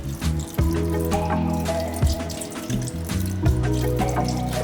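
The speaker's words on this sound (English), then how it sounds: "Add a bit of beef broth in there." Beef broth pours into a pot of lamb stew with a continuous splashing, trickling gush that runs close and fairly loud throughout, with no voices.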